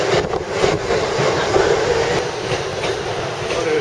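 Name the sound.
train passing by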